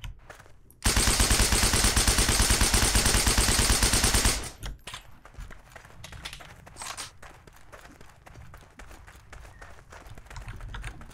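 A sustained automatic weapon burst from the video game Heroes & Generals roars for about three and a half seconds, loud and close, then gives way to quieter clicks and game noise.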